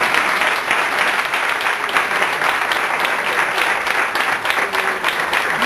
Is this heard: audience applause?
yes